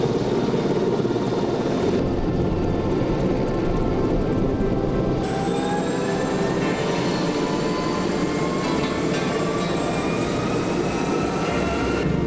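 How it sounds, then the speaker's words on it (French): An AW139 search-and-rescue helicopter of a naval squadron departs on a mission, its loud steady rotor and turbine roar continuous throughout with rising engine whine, no voices. "AW139 part en mission de sauvetage"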